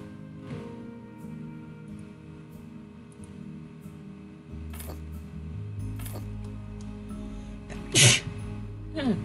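A single loud, sharp sneeze from a person decorating a room for Christmas, rising over a low indoor hum with soft rattles and knocks of handled objects.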